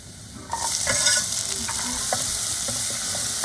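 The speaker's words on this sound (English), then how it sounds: "we want to make sure that the garlic and the cumin seeds especially are very roasted enough" Garlic and cumin seeds roast in a pan over medium heat for a chickpea curry. A loud, steady sizzle starts after half a second, with light stirring scrapes throughout and no voices.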